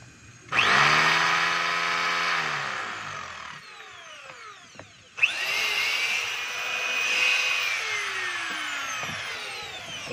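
A DeWalt D25012 rotary hammer runs after a plug repair with two bursts of loud whining motor drone, each spinning up sharply. A short quieter gap with a click comes between the bursts.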